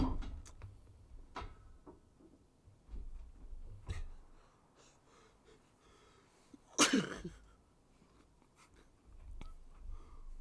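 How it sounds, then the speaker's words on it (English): A single sharp, wet-sounding sneeze bursts out at close range, loud against a quiet room with faint rustling and small knocks around it. "That was just about the wettest sneeze I've ever had."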